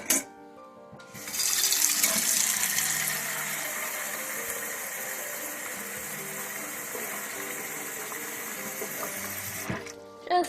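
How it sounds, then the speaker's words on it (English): Tap water runs steadily into a cooking pan for several seconds, a broad hissing gush that starts after a short pause and stops abruptly near the end, heard alone without talk. "I'm going to fill this pan with water."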